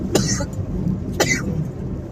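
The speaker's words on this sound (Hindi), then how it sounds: "सॉरी खांसी आ गई" Two short, harsh coughs about a second apart, close to the microphone, over a low background hum.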